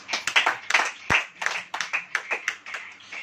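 A church congregation claps in an uneven, lively rhythm for about three seconds, many hands close and fairly loud, with one sharper slap standing out and a faint voice underneath.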